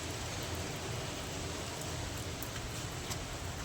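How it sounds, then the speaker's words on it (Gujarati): Steady rain falls in Kutch during the monsoon, a soft, even hiss of drops with no break. It is faint and continuous, with no speech heard. "મસ્ત મજાનો વરસાદ આવે છે."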